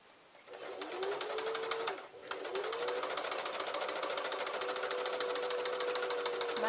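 A sewing machine darns a hole in a bath towel, needle running in rapid even stitching with a brief pause, then whirring on continuously as the work moves back and forth.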